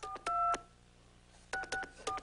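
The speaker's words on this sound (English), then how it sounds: "Okay, calling Steve and Wanda Gold" Touch-tone telephone keypad dialing during a late-night TV studio segment: two bursts of several quick dual-tone beeps, separated by a short pause, clear and close with faint room noise beneath.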